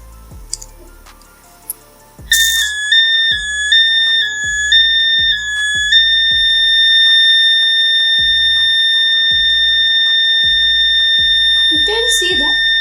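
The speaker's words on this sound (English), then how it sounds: "You can see that the buzzer is alarming" An Arduino gas-sensor alarm buzzer, triggered by gas from a lighter, beeps in a stepped, warbling pattern, then settles into a continuous loud tone, with steady clicking ticks underneath and brief noises at the end.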